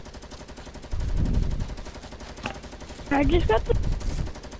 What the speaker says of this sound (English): Why are you shooting at me, bruh?